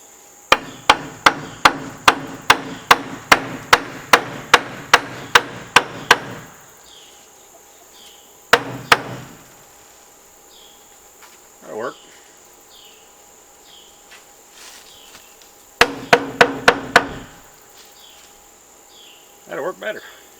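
A hammer drives a scrap 2x2 into place on a chicken coop entry door, a fast run of loud wooden whacks, then a pause, a few more blows, scattered quiet sounds, and a final burst of strikes.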